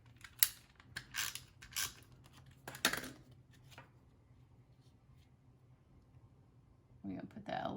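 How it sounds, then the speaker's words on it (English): Scissors cut paper while a Halloween mummy treat-bag topper is assembled: a quick series of crisp snips in the first four seconds, then near quiet, with a voice starting at the end. "I'm just gonna take my scissors, because you know me, I'm not afraid to cut with scissors."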